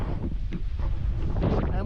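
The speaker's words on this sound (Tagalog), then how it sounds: "Ah, lakas ng hangin." Strong wind buffeting an outdoor microphone near farm fields, a loud continuous low rumble with gusty surges throughout, with a voice speaking faintly underneath.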